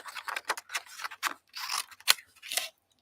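Scissors cutting through card, a run of about eight crisp, close snips and rustling cuts in uneven rhythm, with short silent gaps between them.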